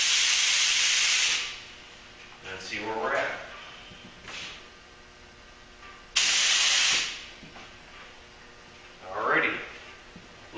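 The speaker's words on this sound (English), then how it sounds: "I'm going to do a quick spray out here" An Iwata LPH 400 spray gun hisses in two loud bursts of a few seconds each, spraying paint on an SUV liftgate at about 18–20 psi, with someone talking between the passes.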